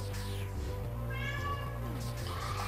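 A cat meows repeatedly in a Metroid Zero Mission gameplay session, clear drawn-out cries rising and falling over a steady game music and hum background.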